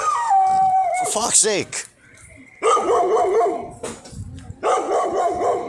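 Dogs bark, yip and howl close by in rising, wavering cries and sharp barks, broken by a short pause, while a man swears over them.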